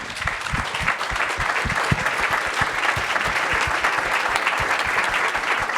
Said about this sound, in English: Join me, please, in applauding this panel.